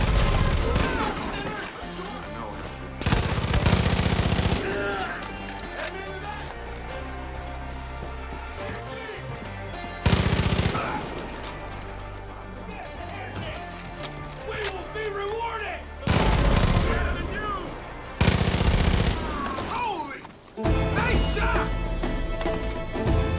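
Gunfire in the video game Far Cry 5 comes in several loud bursts amid a busy game soundtrack of music and effects.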